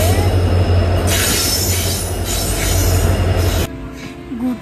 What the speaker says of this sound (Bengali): তো আমাদের ট্রেন এসে গেছে।